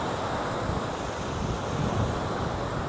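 Strong, steady wind roars across the open white-sand beach at Pasir Putih, Tuban, East Java, mixed with a broad wash of surf, a constant loud rumble that buffets the microphone with no let-up.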